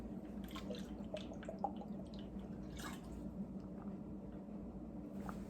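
Someone drinks water close to the microphone, with quiet wet gulps and small drips repeating softly over a faint room hum.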